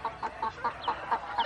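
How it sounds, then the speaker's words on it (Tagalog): Farm chickens clucking at feeding time, a series of short, soft, evenly spaced clucks from a small group of birds nearby, with no talk. "ang magpakain ng mga manok"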